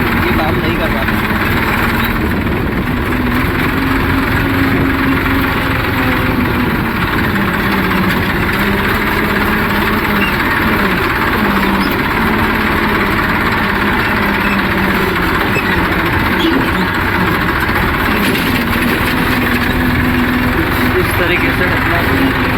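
A low-diesel-consumption tractor pulling a land leveller across a farm field drones loudly and continuously, a steady near engine rumble with slight pitch wavering, while someone talks over it.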